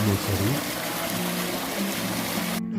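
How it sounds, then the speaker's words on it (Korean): Cold water trickling in a countryside stream in winter, a steady close rush of flowing water that runs the whole time, with a faint voice murmuring near the start. "물소리"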